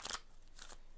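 A deck of cards given a quick shuffle, heard as a burst of crisp riffling and clicking at the start, then a softer second flutter, close and fairly quiet with no talk.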